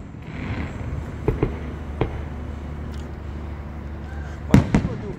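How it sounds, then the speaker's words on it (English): Early fireworks on July 3 crack and thump in scattered bursts, some single and one quick cluster near the end, heard from a distance over an outdoor background with faint voices. "Why do people do fireworks so early?"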